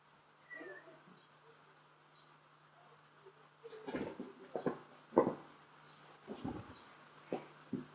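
A house cat meows and yowls in a string of short, uneven cries, faint at first and then louder and closer, with a steady low hum underneath.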